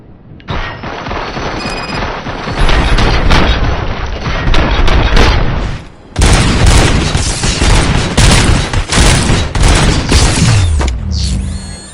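Gunfire in the video game Robocop Rogue City on PS5, a loud sustained stream of rapid shots and booming impacts, broken by a brief pause before another heavy burst.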